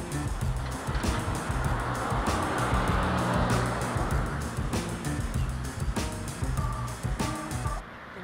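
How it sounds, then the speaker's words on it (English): A Chevy Volt electric car pulls away for a test drive, a smooth rising whir and tire rush that builds then eases as it moves off, fairly close, with no speech. "Chevy Volt getting ready to take off for a test drive."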